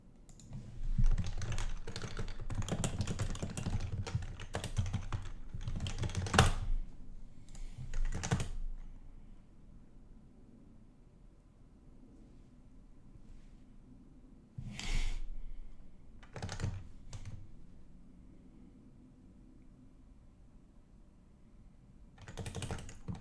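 Code is typed on a computer keyboard in bursts of rapid clicking keystrokes, dense at first, then sparser with pauses and occasional isolated key presses, close and fairly quiet.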